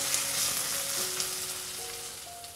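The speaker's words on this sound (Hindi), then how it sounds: "इसे भी प्याज के साथ मिक्स करके ना थोड़ा सा भून लेंगे ताकि इसका कच्चा सा स्वाद निकल जाए" Ginger garlic paste frying with onions in a pan, a steady close hiss of sizzling oil that holds level throughout, with no talk.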